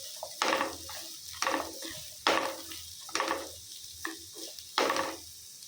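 Onions with salt sauté in a pan over medium flame, with rhythmic scraping stirs every second or so over a low sizzle.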